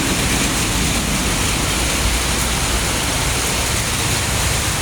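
Torrential rain in bad weather near an MRT station, a constant dense hiss and rumble of downpour, loud and even throughout with no voices.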